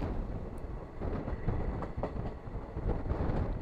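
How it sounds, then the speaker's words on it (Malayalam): The Kannur–Ernakulam Intercity Express rolls slowly into Vadakara station, a continuous low rumble heard from inside with faint rhythmic rail clicks and no voices. "വടകര റെയിൽവേ സ്റ്റേഷൻ്റെ പ്ലാറ്റ്ഫോമിലേക്കാണ് നമ്മുടെ ട്രെയിൻ ഇപ്പം മെല്ലനെ കയറുന്നത്"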